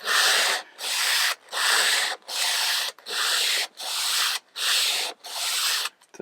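A wooden cutting board's juice groove is worked with 180 grit sandpaper wrapped around a dowel, producing loud, close, rhythmic back-and-forth rasping strokes, about eight in a row with brief pauses between.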